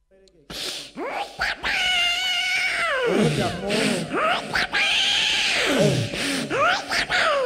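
A mimicry artist in a stage comedy act imitates a cat with a run of drawn-out, wavering meows and caterwauls, loud and close, repeated several times with short breaks between them.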